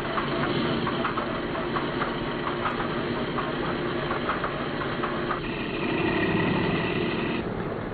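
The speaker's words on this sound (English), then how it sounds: "The horizon should snap into position firmly and quickly just as soon as the number 2 engine starts." A Boeing B-17 bomber's piston engine runs steadily at idle after starting, a continuous rumbling drone with faint rhythmic pulsing and no voices.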